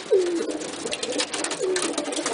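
A pigeon coos twice at close range, each call a low, soft, drawn-out note spaced well apart over steady background hiss.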